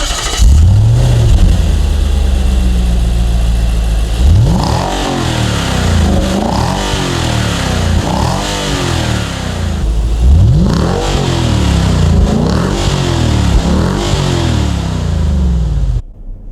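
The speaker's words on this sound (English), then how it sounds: "So let's go for a drive on the road to see how it performs" A 2026 Nissan Patrol Warrior V8 (Y62) pulls away on a road, its engine rising and falling in repeated loud revving surges as it accelerates through gears, close and steady with no voices.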